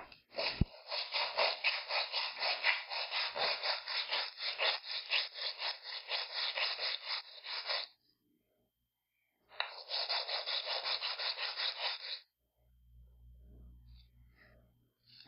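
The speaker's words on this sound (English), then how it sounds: "I'm sanding the plastic toys because the bottom is not flat." Cast resin plastic toy bottoms rubbed on 100 grit sandpaper, a close, rhythmic run of rasping strokes for about eight seconds, a short pause, then more strokes before a low hum takes over.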